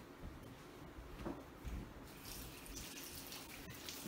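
Tap water runs steadily over freshly cleaned quail at a sink, a continuous low splashing flow with a few brief knocks, fairly quiet throughout.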